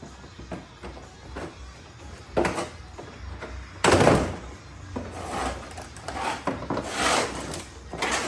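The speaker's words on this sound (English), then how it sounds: "let's go ahead and rip these zip ties off" Several sharp plastic snaps and tugs come through close by as zip ties are ripped off a Ford F-150, with rustling and clunks of handling between them in a busy workshop setting.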